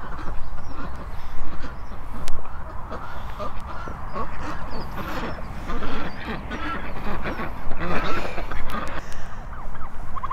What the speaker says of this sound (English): The ducks have come to see what I'm doing.